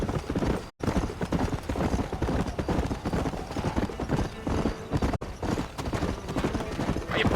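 Horse hooves gallop in a fast, steady clip-clop rhythm in the Western video game Red Dead Redemption, close and loud, with a couple of abrupt cuts and a faint whinny mixed in.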